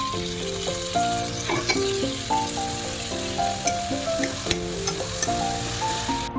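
Boiled dal is poured into cumin powder and dried fenugreek leaves frying in oil, giving a steady close sizzle with soft bubbling and stirring, under a light melodic background tune and no talking.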